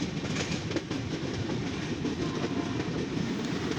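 The Visakhapatnam to Chennai Central superfast express rolls past, a dense, steady rumble of wheels and carriages with faint rhythmic clatter, loud and continuous throughout.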